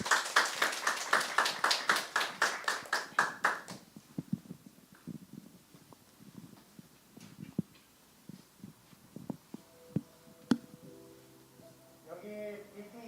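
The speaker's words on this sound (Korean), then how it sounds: "우리 이 시간 박수로 맞이해드릴까요?" A church congregation claps in rhythm to welcome the preacher at a Sunday worship service, with steady, fairly loud claps for a few seconds that then fade into scattered quiet taps and room noise.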